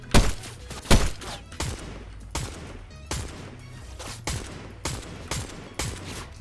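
Gunfire in the video game Fortnite: a string of sharp shots and bursts, a couple of loud ones early and then more spaced reports roughly every second over a low rumbling bed.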